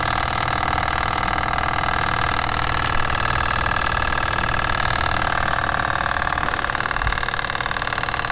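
A small steam engine running with a steam condenser, a steady mechanical drone with a constant rhythmic chuff that holds evenly throughout, close and moderately loud, with no voices.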